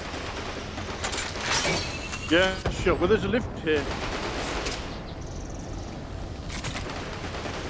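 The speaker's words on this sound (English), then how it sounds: "Your gunfire up top." Rapid bursts of gunfire in the VR video game Stormland crackle through the whole stretch at moderate level, mixed with people talking over it.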